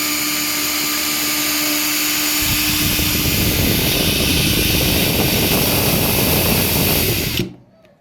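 Einhell TP-CD 18/50 Li-i BL brushless cordless drill spinning a bit, a loud steady whirring motor whine that holds for several seconds, then cuts off abruptly near the end.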